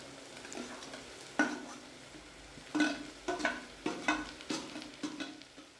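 Chopped snake gourd is stir-fried in a pan under a soft background sizzle, with a spatula scraping and clattering in irregular bursts.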